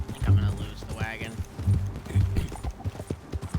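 Horse hooves clip-clop at a steady gait in the video game Red Dead Redemption 2, moderately close, with a person talking over the hoofbeats.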